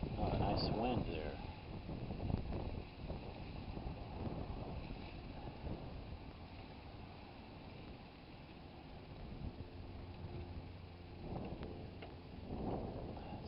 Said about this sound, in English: Oh, a nice wind there.